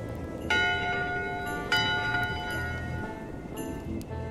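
Ship's bell struck in the pirate adventure game Return to Monkey Island, several clear metallic rings with long ringing tails, spaced out over a steady low background drone.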